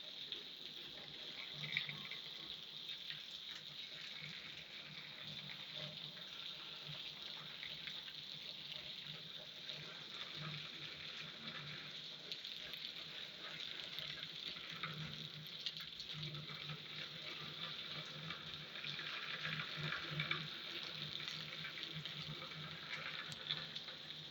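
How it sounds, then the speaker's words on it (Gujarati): A steady hiss of rain falls continuously, an even, dense patter with no voices. "એક સારામાં સારા વરસાદ પડી રહ્યો છે"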